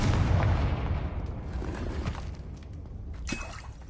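A fire-blast spell from a wizarding video game bursts with a loud, rumbling explosive boom at the start, then a dull roar fades over several seconds, with a sharper crackling pop near the end.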